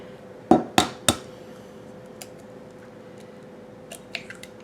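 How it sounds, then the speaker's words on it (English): Eggs cracked one after another against a bowl for a chocolate zucchini sheet cake, three sharp close knocks in quick succession, followed by faint drips and small clicks of shell in a quiet kitchen. "I'm going to crack my eggs in here to make sure I don't drop any shells"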